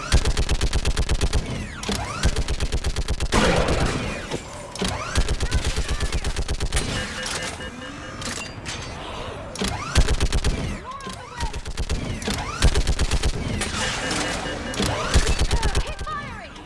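Mounted gun firing in Mass Effect 3, heavy rapid automatic bursts hammering almost continuously and loud throughout, with brief gaps between volleys and voices shouting over the gunfire.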